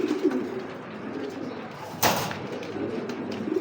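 Giribaz pigeons coo softly at close range in a loft, low murmuring calls with a brief thump or flutter partway through.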